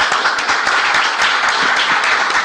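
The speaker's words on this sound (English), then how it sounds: "Please, let's all clap." A conference audience bursts into steady, vigorous clapping, a bright continuous patter of many hands with no voices standing out.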